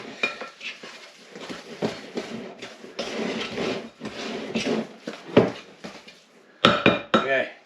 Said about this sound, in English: it does get a little heavy to stir, so it's not like a normal cake mix